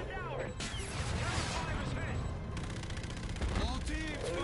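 Rapid bursts of automatic gunfire and heavy impacts aimed at gunships in the video game Call of Duty: Infinite Warfare, loud and overlapping in clusters, with game dialogue and a player's voice mixed in.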